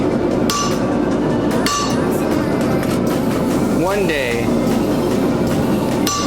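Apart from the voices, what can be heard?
hammer striking metal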